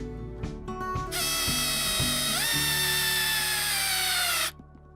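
A Makita cordless drill drives a screw into a kayak well nut to expand it: a few short bursts, then one sustained high whine that dips in pitch as the nut tightens and cuts off abruptly.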